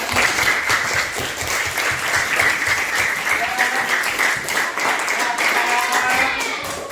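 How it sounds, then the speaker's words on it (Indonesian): Students in a school science lab clap hands together in a sustained, lively round of applause, close and loud, with some voices mixed in. "Oke, baik, tepuk tangan."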